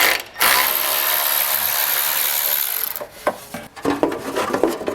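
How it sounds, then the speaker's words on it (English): Ratchet with a 10mm socket removing plastic nuts during a trailer hitch install on a 2022 Chrysler Pacifica, a brief burst of clicking followed by scattered sharp ratchet clicks and handling knocks, fairly close. "grab our 10mm socket"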